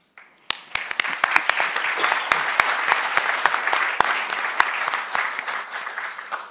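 An awards-ceremony audience breaks into sustained applause for a social entrepreneurship event honoree, starting as a few sharp individual claps and swelling into a dense, steady crowd clapping that lingers for several seconds without talk.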